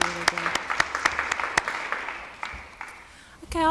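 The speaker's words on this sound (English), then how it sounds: "A hand of applause." Audience applause for a panel at a policy symposium, a dense patter of clapping that thins and fades toward the end before a voice briefly begins.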